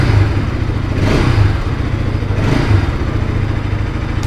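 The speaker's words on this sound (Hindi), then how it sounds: "थोड़ा सा रेव कर लेते हैं" Bajaj Pulsar NS 200 motorcycle, a 199.5 cc liquid-cooled single, revved gently indoors in a showroom; a steady low engine drone with a couple of mild throttle blips, fairly close and loud, no talk.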